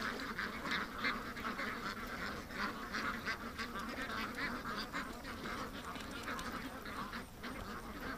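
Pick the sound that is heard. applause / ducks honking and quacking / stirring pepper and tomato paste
ducks honking and quacking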